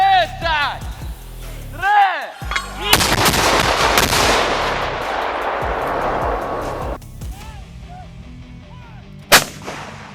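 Artillery fires on a Russian convoy, sending a loud blast at about 3 s that rolls into a long rumbling decay, then a second sharp report near 9 s. Voices call out commands before and between the shots.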